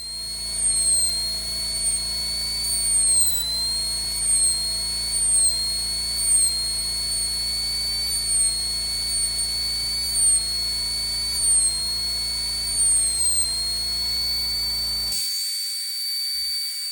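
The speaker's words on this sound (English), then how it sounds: "Using this high-speed drill press and a 1mm drill bit, I take and I drill out the tip of this nib" A high-speed drill press with a 1 mm bit drills out the tip of a fountain pen nib, giving a steady, loud high-pitched whine with slight wavering that holds for about fifteen seconds before cutting off.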